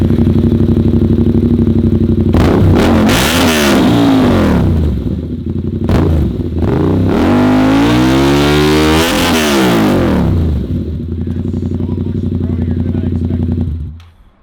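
A Yamaha R7 motorcycle with an SC Project CR-T exhaust idles loudly up close, then is blipped through several sharp revs that rise and fall before settling back to idle and cutting off at the end.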